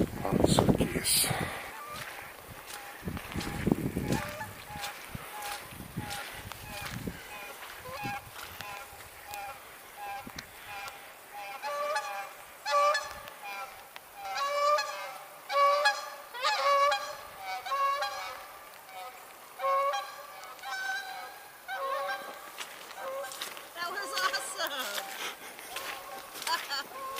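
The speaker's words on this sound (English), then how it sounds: "Canada geese." Canada geese on a lake shore honk repeatedly in overlapping bursts, a flock calling at moderate distance after a few loud close knocks and rustles at the start.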